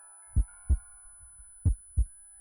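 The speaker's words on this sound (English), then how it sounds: "The heartbeat stresses me out though" Two pairs of low, booming lub-dub heartbeats sound in A Tithe In Blood, a dark fantasy visual novel, thudding close and clear over a quiet sustained tone, with no one speaking.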